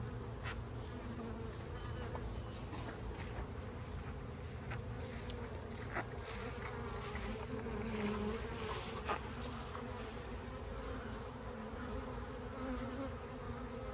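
Bees swarm close around a camera outdoors, a dense, steady buzzing drone that fills the whole stretch with no letup, individual insects flicking past near the microphone now and then, and no voices.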